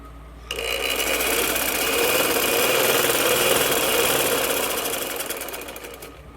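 A sewing machine runs steadily while stitching a gents' shalwar, giving a loud, continuous mechanical whir that starts abruptly and lasts about six seconds with no talking.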